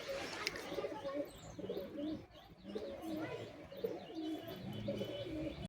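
Pigeons kept in pairs for sale coo steadily at close range, soft throaty calls repeating in a loose rhythm with occasional higher chirps, no talk over them.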